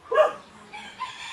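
A rooster gives a short, nearby crow among chickens at a rural Filipino home, a brief loud call followed by fainter clucking.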